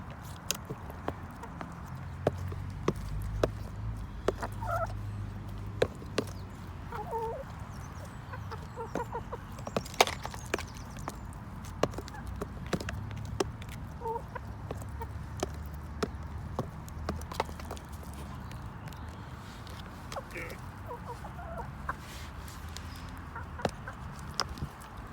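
Backyard laying hens and a small bantam cluck steadily while pecking at a lunch of baby shrimp and sweetcorn, with scattered soft calls and scratching over a low outdoor rumble, no talk.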